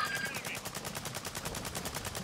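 Rapid automatic gunfire from a Cronen Squall in Warzone 2 season 3, a steady stream of evenly spaced shots held for the whole stretch, loud and close, with faint voice chatter at the start.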